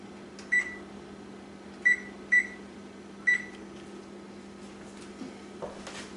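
An oven hums steadily in a quiet kitchen while cream puffs bake, with four short electronic beeps sounding near the start and a faint clunk toward the end.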